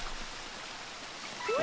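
Steady rushing water from a waterfall in the Super Mario Odyssey forest level, a broad even wash throughout, with a brief game tone rising near the end.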